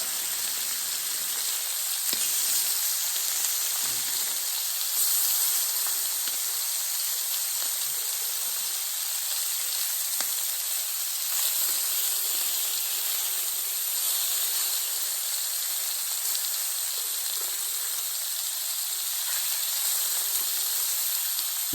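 Pork sizzling on a Thai mookata grill pan on a cold evening, a steady, close hiss and crackle of frying fat that carries on unbroken with no talk.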